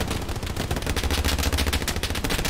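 Tank-mounted machine gun firing in Hell Let Loose, a rapid continuous rattle of shots at steady rhythm amid dense battlefield noise, loud and sustained.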